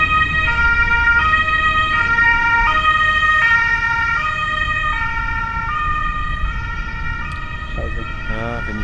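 Ambulance siren setting off at the Nordschleife race track, a steady two-tone wail held loud throughout over rumbling engine noise, with a brief voice near the end.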